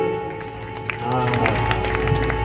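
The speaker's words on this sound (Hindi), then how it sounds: "ताली बजाओ उसके लिए।" Audience applause at a Bhagwat Katha religious discourse swells into a dense, steady wash of clapping for the second half, following a stretch of softer room noise with voices present.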